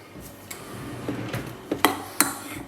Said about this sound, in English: Now let's try stirring this together